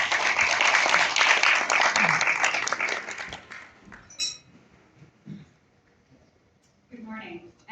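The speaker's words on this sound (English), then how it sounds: "Warm round of applause." An audience at a corporate product launch gives a warm, dense round of applause that starts loud, fades out over a few seconds, and leaves scattered light sounds behind it.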